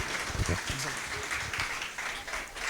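Audience applause at a national press week closing ceremony for the best school newspaper award, steady and fairly loud, with voices talking through it.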